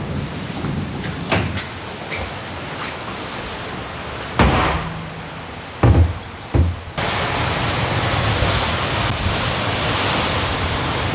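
Strong wind gusts roar against a tent while camping in a heavy rainstorm, a broad steady rush with a few brief knocks and thumps, loud and close with no talking.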